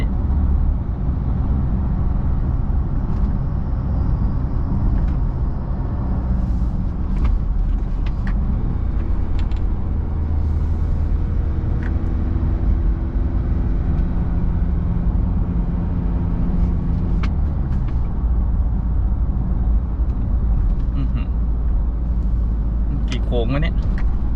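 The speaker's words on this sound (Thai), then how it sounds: "ก็ตอนนี้อยู่เกียร์สี่ได้นะความเร็วประมาณสักเจ็ดสิบประมาณเนี่ย" A 2021 Isuzu pickup cruises in fourth gear at about 70 on a predawn drive, giving a loud, steady cabin drone of engine and road noise that lasts the whole time while someone talks over it.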